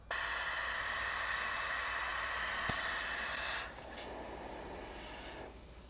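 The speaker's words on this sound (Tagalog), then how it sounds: "Ang lakas ng singaw." Steady, loud hiss of air escaping from a punctured scooter tire fills the clip, with a brief sharp click midway; the rush weakens slightly toward the end.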